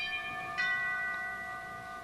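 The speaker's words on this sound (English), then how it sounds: "That was our bell, right?" A doorbell in a house rings with a sustained, bell-like tone, struck once more partway through, then lingering faintly without any voices.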